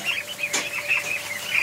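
Ducks in a coop give soft, repeated quacks and murmuring calls, a close, moderate chorus of short notes over steady background noise, with no talking.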